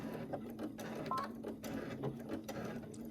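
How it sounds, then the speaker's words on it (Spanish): A sewing machine runs close by, stitching back over a thick seam of heavy fabric on a cosmetic bag, with a steady low motor hum and quick, evenly repeating needle ticks, and no speech. "y volver a darle la costura para que esos puntos nos queden supremamente bien"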